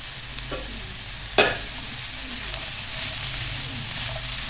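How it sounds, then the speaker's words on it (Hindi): Chopped capsicum and cabbage fry in a hot pan with a steady, even sizzle, and one sharp clatter of stirring comes near the start. "वेजिटेबल्स को फ्राई होते हुए 2 मिनट हो चुके हैं"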